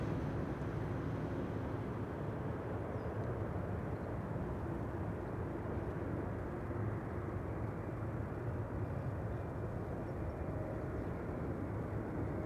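A business jet takes off at Amsterdam Schiphol Airport, its steady broadband engine roar filling the air at a constant loud level throughout, with no voices.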